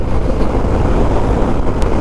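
Steady, loud wind roar buffets the microphone while riding a BMW R 1250 GS adventure motorcycle, a continuous broadband rush with no pauses and no talking.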